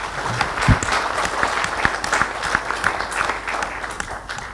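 A conference audience at an Oman land transport infrastructure event gives the organisers a steady round of applause. The dense clapping holds at an even level throughout, with no talking over it.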